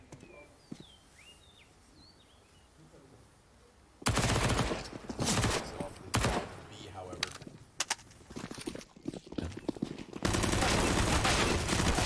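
Rapid SMG bursts and scattered gunshots during a competitive Counter-Strike match on the Inferno map, loud and dense after a quiet start with faint ambient birdsong.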